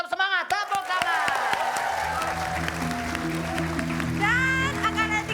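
Studio audience applause on a comedy game show, a burst of clapping under lively talk and background music, with a host's voice continuing throughout.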